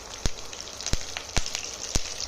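Green chillies, chopped ginger, garlic and a few curry leaves frying in hot oil for chicken 65, giving a steady close sizzle broken by four sharp spattering pops.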